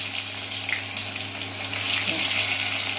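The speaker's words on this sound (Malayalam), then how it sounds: "ഇനി കുറച്ച് ഇഞ്ചി വെളുത്തുള്ളി ഇട്ട് കൊടുക്കാം." Ginger and garlic hit hot oil with fenugreek for a chilli fish curry, setting off a loud, steady, close sizzle that runs the whole time with no talking.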